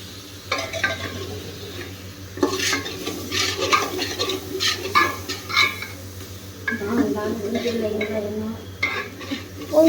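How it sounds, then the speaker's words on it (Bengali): A spoon stirs food in a cooking pot, repeated scraping and clinking of metal against the vessel in irregular bursts, close by, over a low steady hum. "প্রথমত নাড়ছি"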